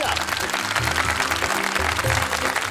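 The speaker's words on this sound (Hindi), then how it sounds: "तालियां।" Audience applause at an inter-college dance competition, a steady wash of clapping over loud music with a low rhythmic beat throughout.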